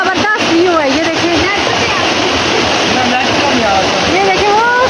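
The Nila Bana waterfall in Haripur Hazara roars with a dense, steady rush of falling water close by, while someone talks continuously over it.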